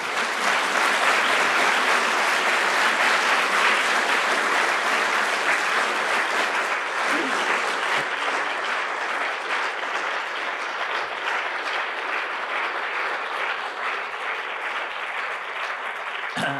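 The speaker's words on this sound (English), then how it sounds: "we should give the speakers a round of applause again for everything" A room full of people at a public symposium gives the speakers a round of applause, loud, dense and continuous clapping that holds steady throughout and only eases slightly near the end.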